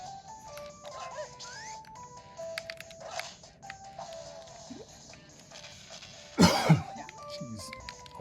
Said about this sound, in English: Always gotta get that cough in there